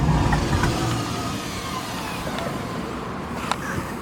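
A 1951 Ford F100 pickup with a 302 V8 and mild cam runs at a steady idle after starting, a loud continuous low rumble with a few faint clicks over it.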